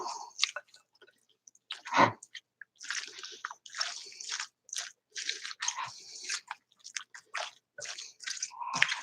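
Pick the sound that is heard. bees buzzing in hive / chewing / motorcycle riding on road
chewing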